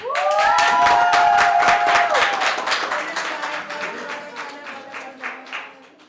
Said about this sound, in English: Let's hear a round of applause for the Ministry of Foreign Affairs and Foreign Trade